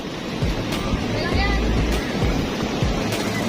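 Ocean waves rush and surge close by onto Bagasbas Beach, Daet, Camarines Norte, with gusty wind buffeting the microphone, a steady churning wash of water.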